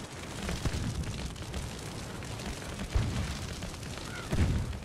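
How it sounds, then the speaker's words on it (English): Cannons fire in a Family Guy video game, several dull booms spaced apart over a continuous noisy wash of game sound. "Oh, that's just cannons."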